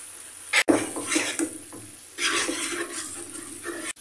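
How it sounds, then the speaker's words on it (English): A spoon scrapes and stirs a bubbling wine sauce in a pan, close up, with soft sizzling and a couple of sharp knocks against the pan. "And we mix it well."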